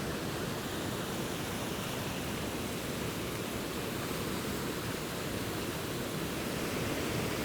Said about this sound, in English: this nice water coming out of the rocks. There's been loads of rain, so the water's flowing really nicely.